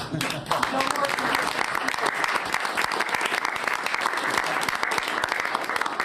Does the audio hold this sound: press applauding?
yes